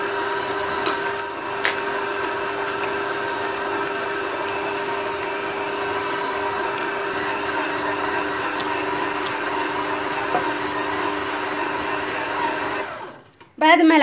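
A stand mixer fitted with a kneading hook works dough at a steady, continuous motor whine, loud and close, before stopping abruptly near the end.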